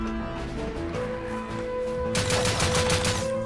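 Rapid bursts of gunfire crackle continuously over a layer of game music and background sound in the game Rust, intensifying into a denser volley in the second half.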